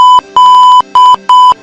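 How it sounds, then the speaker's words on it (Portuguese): A small pager emits loud, steady electronic beeps in four tones of uneven length separated by short silences, close and clear. "o bip que ela usava para se comunicar com os Vingadores apita"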